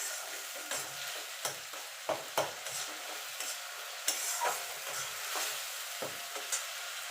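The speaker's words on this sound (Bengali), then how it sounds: "এবার পেঁয়াজটাকে একটুখানি মিনিট খানিক নাড়াচাড়া করে নেব" Onion sizzles gently in a pan for fish kalia while a spatula stirs it, giving soft scraping strokes every second or so over a continuous hiss.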